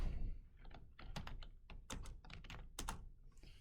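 Typing on a computer keyboard, a run of close, crisp key clicks and thunks in an uneven rhythm, alone with no talk.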